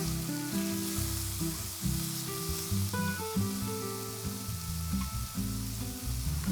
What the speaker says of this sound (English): I heated up a pan and then I started to fry them on medium heat